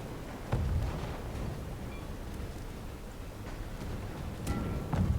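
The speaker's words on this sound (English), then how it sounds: "Bobo's already throwing out their first wave of ammo on top of GNG." Artillery barrage in the medieval battle game Conqueror's Blade: a dense, continuous rumbling roar of battle with heavy booming impacts near the start and end.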